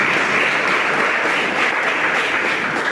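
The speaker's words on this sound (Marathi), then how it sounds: "एक बार जोरदार टाळ्या वाजवून त्या विद्यार्थ्यांचा आपण या इथे कौतुक करूया" At a children's music gathering at New English High School, an audience gives students dense, sustained applause, a loud even wash of many hands clapping that carries through the whole moment without a break.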